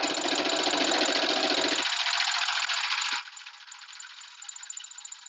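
A sewing machine back stitching a ribbon skirt runs in a fast, steady, rattling buzz, loud and close, then drops to a lighter whirring hum for the last seconds, with no talking.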